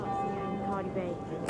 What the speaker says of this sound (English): We've got the bells going off again over here.